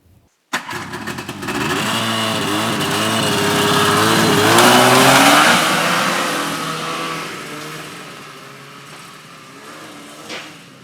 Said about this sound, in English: we could crash a car into a tree